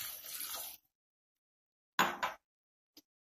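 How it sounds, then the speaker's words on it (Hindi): Water poured from a vessel into a pan holding pumpkin pieces on the stove: a short gush with splashing, then silence, then a second brief pour and a faint final drip. "अब डाल दूंगी पानी"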